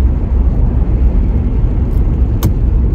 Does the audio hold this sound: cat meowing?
no